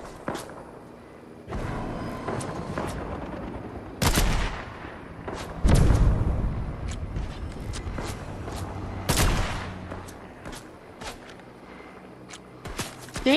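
Gunfire in a video game: loud, sharp shots crack out irregularly, some singly and some in quick bursts, over a steady background of movement and footsteps.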